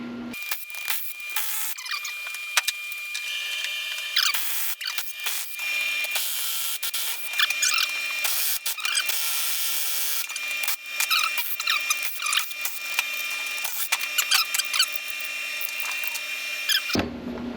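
Power tool running in long continuous bursts as 14 mm bolts are spun out of an R154 transmission during a teardown, loud and close with brief pauses between bolts and no talking.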